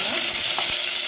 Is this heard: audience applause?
no